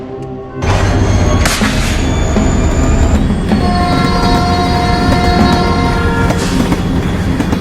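A train in the Roblox video game pulls away with a loud, steady rumble, tonal wheel squeals and clanks layered over the engine drone, all close and continuous.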